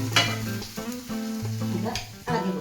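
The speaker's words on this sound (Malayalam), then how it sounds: "ഇത് ഇളക്കി കൊടുക്കും." Beetroot pachadi being stirred after fried mustard seeds are added sizzles loudly up close, with scraping spoon strokes against the pan in an uneven rhythm.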